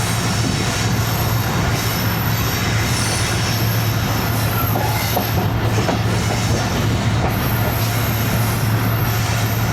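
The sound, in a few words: 14DN Awam Express passenger train running on tracks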